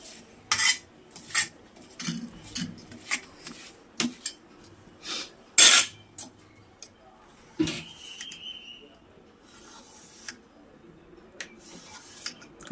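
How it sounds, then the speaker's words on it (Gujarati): A knife cuts milk sweet (doodh ni bali) on a plate, giving a series of sharp metallic taps and scrapes against the plate, irregular and close, one especially loud clink midway. "પછી આને આપણે કટ કરી નાખવાનું છે।"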